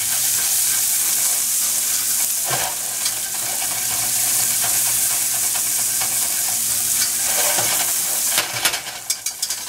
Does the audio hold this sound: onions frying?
yes